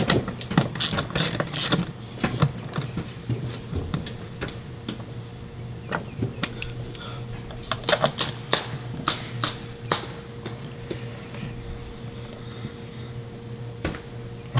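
Bolts on a 2018 Ford F-150 tail light being tightened into plastic retainers at the back of the cab, heard as close, loud bursts of rapid ratcheting clicks separated by short pauses.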